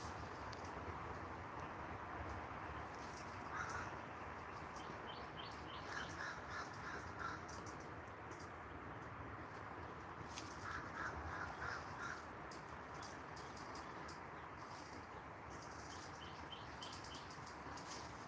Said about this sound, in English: The crows are out.